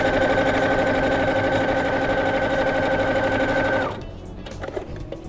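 Sewing machine stitching fabric for a makeup holder, running in a steady, even whir close by for several seconds before stopping abruptly, leaving only faint handling noise.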